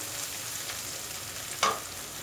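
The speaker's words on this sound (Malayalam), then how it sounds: "സവാള നല്ല വഴന്നിട്ട് നല്ല ഗോൾഡൻ കളറിലാവണം കേട്ടോ, നല്ല ഗോൾഡൻ ബ്രൗൺ ആവണം." Onions sizzle steadily as they sauté in a pan until golden, a constant hiss broken by one brief scrape of a spoon near the end.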